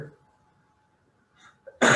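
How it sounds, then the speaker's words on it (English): A single sharp human sneeze bursts out loudly at the end, after a faint intake of breath and near silence. "We got to sneeze."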